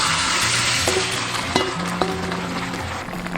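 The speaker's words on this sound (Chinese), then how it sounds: "直接倒入热好的砂锅里面" A thickened luffa and cornstarch mixture hits a preheated clay pot with a steady, close sizzle, broken by a few soft clinks and taps throughout.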